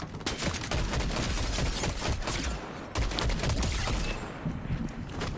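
Dense, continuous gunfire from Fortnite, a battle royale video game, rattling in rapid bursts almost without pause, loud and close, with a brief break midway before the shooting resumes.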